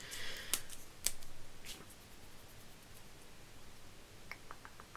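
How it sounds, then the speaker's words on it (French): Scissors snip paper and foam while making an Easter card, two crisp cuts early, then a run of small quick clicks and snips near the end over faint rustling. "Ciseaux."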